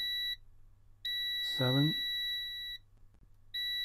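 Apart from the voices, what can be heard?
multimeter continuity beep testing printhead cable pins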